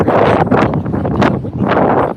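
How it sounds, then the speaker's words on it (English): Strong gusts of wind buffet a microphone outdoors in a stadium parking lot, a loud, rough roar swelling and easing in waves over a couple of seconds. "windy it is out here"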